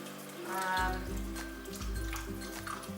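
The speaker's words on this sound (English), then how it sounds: "I'm going to add about 1/4 to 1/2 cup of water" Water is poured into a pan of meatball curry, a steady low pouring and splashing rush that starts abruptly and continues to the end, with faint higher clinks above it.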